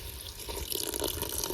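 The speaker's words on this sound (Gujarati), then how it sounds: "રસો કરવા માટે ગરમ પાણી થોડુંક નાખી દઈશું." Hot water pouring into a pan of stuffed bitter gourd curry cooking with tomato gravy and spices, a short close splashing rush that swells louder toward the end.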